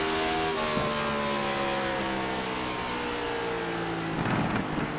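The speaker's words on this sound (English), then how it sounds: "but you hear him downshift." Race car engine in the iRacing Cup Series at New Hampshire's Magic Mile, a loud sustained drone with stepping harmonic lines that drop and shift, ending in a burst of revving near the end.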